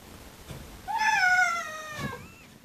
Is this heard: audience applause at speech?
no